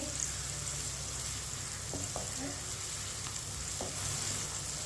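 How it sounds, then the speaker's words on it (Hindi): Chopped onion frying in hot oil in a pan, with steady broadband sizzle throughout and a few soft scrapes and clicks of a spoon stirring. "प्याज को ऐसे ही चम्मच चलाते हुए हल्का सा ब्राउन कर लेंगे"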